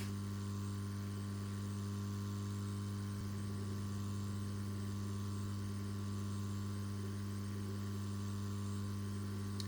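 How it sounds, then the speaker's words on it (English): A heat gun set to 165 degrees Celsius blows hot air during a Swatch Chrono watch case swap, giving a steady, unbroken fan drone with a low electrical hum throughout. "the heat gun is set for 165 degrees Celsius"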